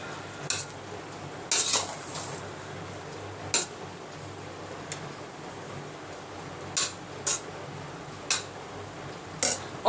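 A metal spoon stirring cooked rice in a pot, with a scattered series of sharp clinks and scrapes against the vessel over quiet kitchen background.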